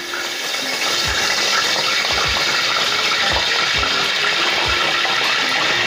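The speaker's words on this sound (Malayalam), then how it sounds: "അപ്പം ഞാൻ കുറച്ച് കറിവേപ്പില ഇട്ട് കൊടുക്കുകയാണ് ഇതിലേക്ക്." Curry leaves hit hot coconut oil while cooking chicken kondattam, giving a loud, steady, close sizzle with scattered pops and crackles throughout.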